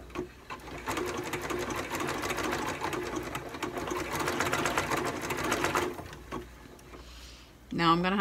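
Domestic sewing machine stitching jersey fabric in a quiet room, a steady fast mechanical whir lasting about five seconds, then stopping, with a brief handling clatter at the end.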